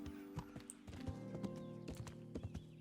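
Video game horse hooves clip-clop in an uneven walking rhythm over a low steady hum, moderately near, with faint background tones.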